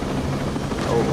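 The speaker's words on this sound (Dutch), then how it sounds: "Oh, daar is een helikopter" A helicopter in the video game Ghost Recon Breakpoint, a continuous low rotor thrum and engine drone filling the short clip at steady, fairly loud level.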